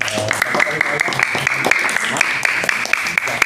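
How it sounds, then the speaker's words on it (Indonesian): Audience applause at an Islamic boarding school hypnosis session rattles along in quick, uneven claps, mixed with overlapping voices and a sustained tonal hum. "tepuk tangan buat Desta, Satria"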